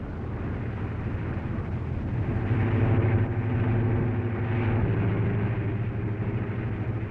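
A steady low roar of a large 1930s aircraft engine as the plane comes in to land, swelling slightly then holding, a continuous heavy drone with no voices.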